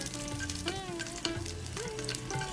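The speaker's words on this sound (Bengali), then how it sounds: "রসুনগুলোকেও ভাজবো সব কিছু লো মিডিয়াম আছে ভাজবো যাতে ঝট করে পুড়ে না যায়" Garlic cloves fry in mustard oil in a pan over low-medium heat, giving a steady close sizzle with crackling pops and occasional scraping of a spatula.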